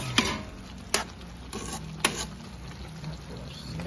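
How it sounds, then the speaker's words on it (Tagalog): Sautéed chayote (ginisang sayote) with a little sugar stirred in a pan, a few distinct utensil scrapes and taps about once a second over a soft sizzling background, close and fairly quiet. "So, ihalog lang natin ng konti."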